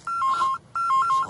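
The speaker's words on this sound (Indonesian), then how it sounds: "Oh, telepon." A telephone rings in a home in an Indonesian comedy film, two bursts of a warbling electronic ring separated by a short pause, clear and close with no talk over it.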